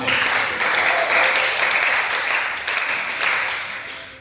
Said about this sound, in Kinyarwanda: Amashyi menshi ku Mana.